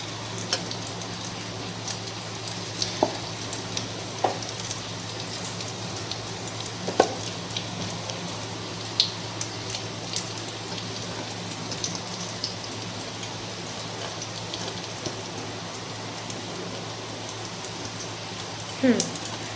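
Rohu fish roe frying in hot oil in a pan, a steady crackling sizzle like light rain running throughout, with a few sharper pops and spits standing out now and then.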